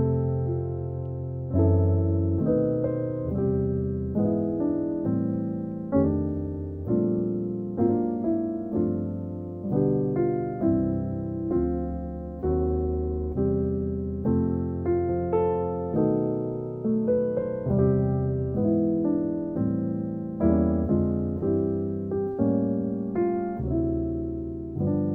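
Piano plays a chord progression starting on the IV chord, moving through passing chords in a steady sequence of struck, sustained chords, close and clear with no talking.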